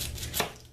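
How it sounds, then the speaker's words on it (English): A single knife stroke through a large onion with a dull blade gives one soft crunching chop near the middle of a quiet kitchen moment, close and fairly faint. "I've got a large onion here, and I have to cut it."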